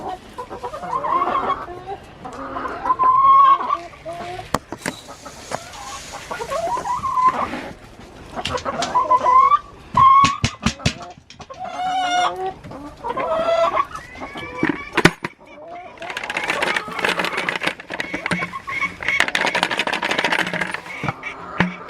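Backyard chickens cluck and squawk in a busy, irregular chorus, with sharp calls rising over a steady clucking at close range and brief bursts of noise between.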